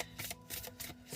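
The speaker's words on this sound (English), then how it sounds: "I'm shuffling, because I do like to shuffle the cards on the camera" Tarot cards are shuffled by hand, several quick soft riffling bursts in rapid succession, close and faint in a quiet room.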